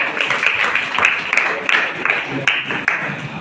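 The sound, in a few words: audience applause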